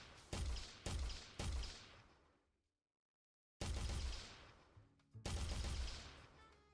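Gunfire in the video game Everything is fine, really: several sharp, close shots in quick succession, a short silence, then more shots, each decaying into a short tail.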